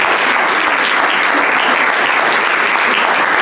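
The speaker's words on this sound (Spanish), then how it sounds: "Un aplauso." An audience at a poetry round-table event breaks into loud, dense applause. The clapping is sustained and close, with many hands blending into a continuous wash and no pauses.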